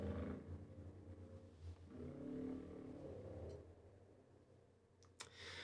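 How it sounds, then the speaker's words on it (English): A loud motorcycle or ATV passes outdoors, its broad engine roar swelling over the first few seconds and then slowly fading, with a couple of brief clicks near the end. "There was a very loud ATV or something. I think it was a motorcycle."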